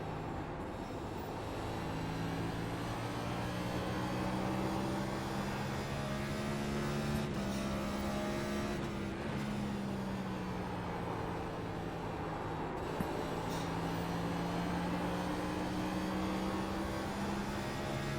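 A NASCAR stock car in the iRacing sim runs laps at Phoenix, its engine droning steadily with rising and falling pitch through the corners, continuous and fairly quiet, with no talking.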